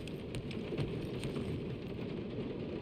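Soft, steady rain in the video game Guardians of the Galaxy, a faint continuous patter with scattered brief drips and ticks throughout.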